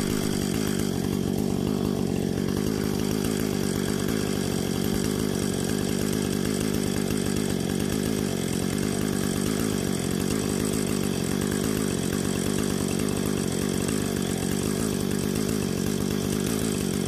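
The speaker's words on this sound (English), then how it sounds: "I've never done carpentry with a chainsaw." A chainsaw cuts wood for improvised carpentry near a shipping container house, its engine snarling loud and continuous at full throttle throughout with no breaks.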